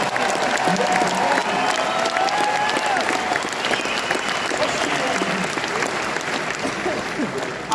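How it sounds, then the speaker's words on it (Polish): An audience claps loudly for a woman who has just sung a song, with some crowd murmur and scattered voices mixed into the steady applause, which holds for several seconds before thinning slightly toward the end. "A ona dostaje brawa"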